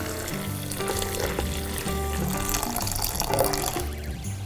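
Water poured steadily into a French press over coffee grounds for cold brew, a continuous splashing rush with a bubbling, sizzle-like texture, close and fairly loud throughout with no talking.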